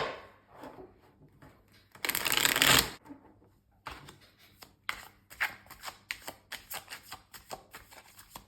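A deck of cards is shuffled close by: first a loud riffle burst, then quieter bursts of rapid flicking clicks at an uneven rhythm.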